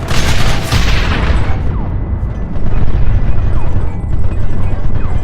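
Heavy gunfire rages in a Red Dead Redemption shootout, a dense, loud barrage of overlapping shots and booming impacts that continues without pause for several seconds.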